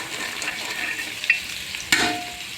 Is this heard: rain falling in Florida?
no